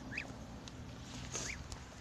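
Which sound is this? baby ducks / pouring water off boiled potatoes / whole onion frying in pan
baby ducks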